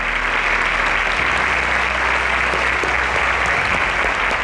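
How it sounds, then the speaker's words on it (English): Steady, unbroken applause from an audience at a quiz show grand finale, a full even roar of clapping that carries on alone throughout. "Please a round of applause for her."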